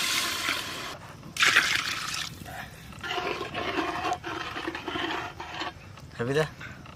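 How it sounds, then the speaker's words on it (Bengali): Water splashes and gushes from a mug into a pot of washed basmati rice for a village-style biryani, poured in a few loud bursts close by, with voices talking over it. "এই মগের এক মগ চাল 2 মগ জল দেবো।"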